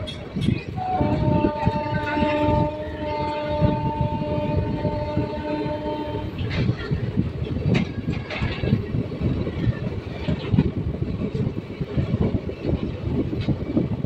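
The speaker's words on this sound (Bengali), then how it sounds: "ট্রেন এখন দাসকল গ্রাম স্টেশন ছেড়ে বেরিয়ে যাচ্ছে" A passenger train departs Dasakalgram station in Birbhum, a long horn sounding for several seconds before the rumble and clatter of the carriages builds and carries on steadily.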